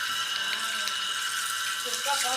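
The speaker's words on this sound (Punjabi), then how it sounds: "ਜਿੰਨਾ ਉੱਪਰ ਪਾਣੀ ਪਾਈ ਹੋ ਨਾ ਪਾਣੀ ਪੀਂਦੀ ਹੈ ਨਾ" Water poured over cattle on a farm to cool them in the summer heat makes a steady, close rushing hiss that runs without a break and has a few faint splashes near the end.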